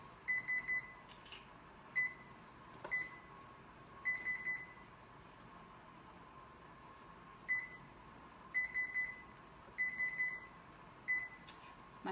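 An oven beeps in short repeated bursts of high electronic tones, spaced irregularly over a quiet kitchen hum, fairly faint and without talk.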